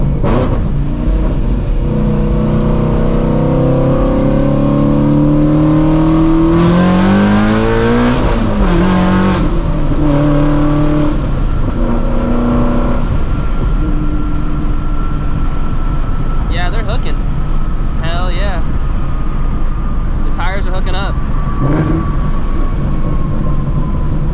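A 700 HP supercharged Shelby GT350 pulls hard, its loud engine note climbing steadily through the revs and then dropping back to a sustained drone, with a high supercharger whine running underneath.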